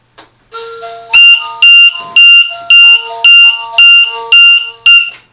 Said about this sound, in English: the receiver will activate the 3-tone siren cum buzzer.